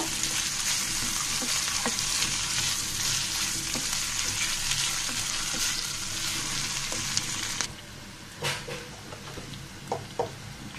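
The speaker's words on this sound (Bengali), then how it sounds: "আলুটাকেও আমি তেলের মধ্যে ভেজে নিব।" Cut potatoes fry in oil alongside greens, a dense continuous sizzle with occasional stirring knocks, dropping off fairly abruptly toward the end to quieter scrapes and clinks.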